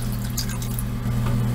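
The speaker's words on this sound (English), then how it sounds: "I'm going to add some water" Water is poured into a pot of red beans and rice on the stove, a steady close trickling splash over a low constant hum, with no talking.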